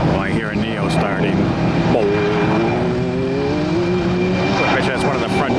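An Airbus Neo airliner engine starts up at Tampa airport after a hurricane, a steady whine rising and climbing in pitch over a continuous roar, with faint voices in the background.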